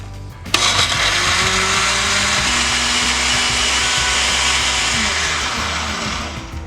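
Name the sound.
blender blending spices for puerco pibil marinade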